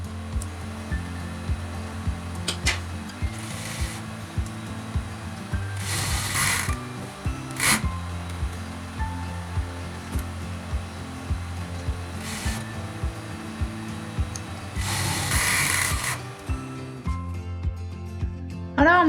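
A home sewing machine stitches a seam on a women's sweatshirt in steady mechanical bursts, motor whirring with a rattling needle rhythm, pausing briefly between runs.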